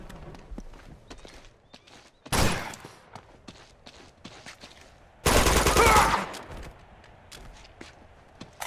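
Gunfire in Uncharted 2: Among Thieves comes in two loud bursts of rapid shots separated by quieter footsteps and scattered battle clatter.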